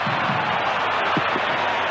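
Stadium crowd applauding a player at a Germany–Belgium football qualifier, a broad steady wash of clapping and crowd noise filling the whole stretch, with faint voices rising briefly above it.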